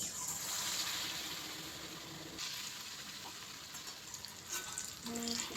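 Green gram sukiyan balls fry in hot coconut oil with a close, steady crackling sizzle and bubbling, which eases slightly midway before flaring again, with a few small clinks near the end.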